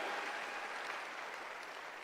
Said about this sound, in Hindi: एक बार जबरदस्त तालियां इन सब लीडर्स के लिए